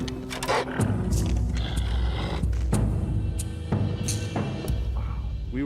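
A wolverine caught in a trap in the Canadian Rocky Mountains growls and roars in repeated harsh bursts, fierce and close, with rattling and scraping between the outbursts.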